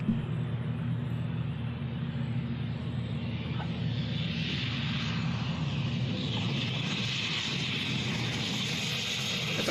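An aircraft landing plays from a screen, a steady low engine rumble and roar that swells slightly midway, with faint talk underneath.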